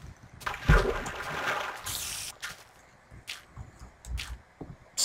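Splashes and watery splatter as a character dives back into the water in a survival video game at night, a few bursts over quiet ambience.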